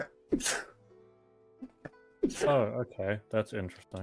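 A sharp sneeze at the start, followed after a pause by a person speaking, during Genshin Impact gameplay.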